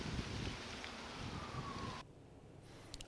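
Strong wind that sweeps in after a sudden drop in temperature, strong enough to uproot trees, blows as a faint, rushing outdoor noise that eases abruptly partway through, with no voices.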